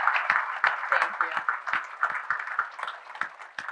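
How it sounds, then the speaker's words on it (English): Audience applause at a 2022 PC political gala, a steady patter of many hands clapping across the room at moderate loudness, with no voices over it. "Let's give them a round of applause."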